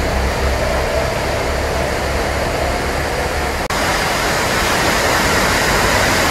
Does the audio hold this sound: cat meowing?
no